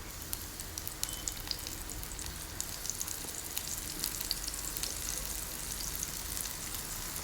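Prawns frying one by one in a hot pan for honey glazed garlic prawns, a steady close crackling sizzle with scattered pops throughout, no talking.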